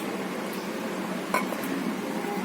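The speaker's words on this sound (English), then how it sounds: "Again I am mixing it, stirring it continuously." A mango pudding mixture with breadcrumbs is stirred in a pan, giving a low continuous scraping wash with a couple of brief metallic clinks from the utensil.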